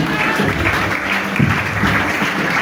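A church congregation applauds and cheers in praise of Jesus, steady broadband clapping that fills the room without a break, with a few voices rising within the crowd noise.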